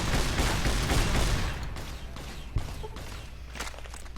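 In the Fallout New Vegas video game, explosive rounds go off in a dense, loud burst of gunfire that fades into scattered sharper shots and impacts over a few seconds.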